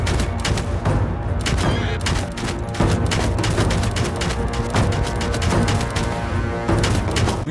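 Rapid gunfire and booming shots from a gun-wielding samurai battling bandits and looters in Bannerlord Shokuho, a feudal Japan game mod, with dense, continuous volleys filling the battle loudly and without talk.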